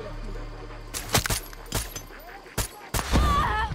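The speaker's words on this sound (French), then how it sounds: "la grenade flash" Sharp gunshots and a flash grenade burst in the shooter game Far Cry 6, several loud cracks spaced across a few seconds with a brief ringing tone afterward, close and punchy.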